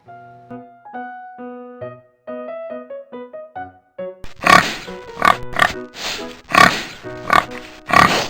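A cartoonish pig oinks in a quick series of loud grunts, following a short melodic toy-like tune in a children's farm animal matching game.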